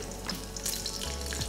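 Garlic fries in a pan for braised cabbage rolls, giving a soft, steady sizzle that stays faint and brief.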